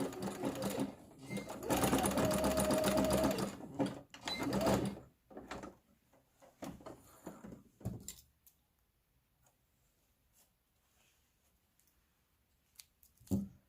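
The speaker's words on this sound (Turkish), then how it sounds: "Şimdi şuradan tutarak tekrar kalan kısmı dikiyorum." A sewing machine set to zigzag stitches a felt door decoration, whirring loudly and steadily for several seconds before stopping. Quieter clicks and handling noises follow, ending with one short burst.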